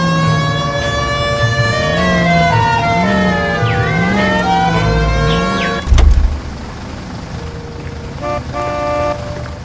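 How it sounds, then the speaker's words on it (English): A police car siren wails in the video game L.A. Noire, a loud rising and falling electronic tone over engine noise, cut briefly by a thump before a short horn-like toot returns near the end. "Cole, turn on the siren and pull her over"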